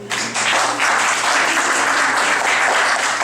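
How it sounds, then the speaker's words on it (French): Audience applause for a participant at a school spelling contest, a dense burst of clapping that starts abruptly and holds steady and loud for a few seconds. "On l'applaudit."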